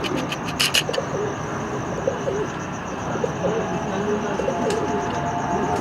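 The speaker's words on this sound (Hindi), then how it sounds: "कौन से कबूतर दिखाने लगे जी?" Pigeons coo softly in a low rolling murmur under busy background noise and a few sharp clicks, with voices faintly in the mix.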